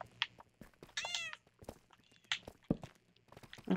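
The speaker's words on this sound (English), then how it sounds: "Why is your cat back with me?" Inside a video game, a cat gives a couple of short, close meows among soft footsteps and light thumps, with quiet gaps between the sounds.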